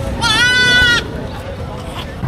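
A goat at a livestock market gives one loud, sustained wavering bleat lasting under a second, followed by a low murmur of market background noise.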